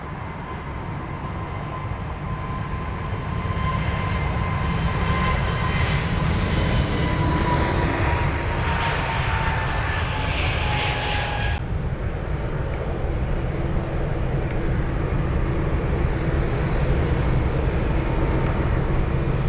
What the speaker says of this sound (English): Now that 320 Neo is already on the move.